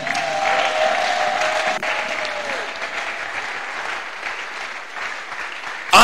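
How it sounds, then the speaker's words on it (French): Church congregation applauding in a large hall to acclaim Jesus, dense sustained clapping from many hands that fills the room, with a brief tonal hum from a microphone early on. "Lui seul, acclamons Jésus"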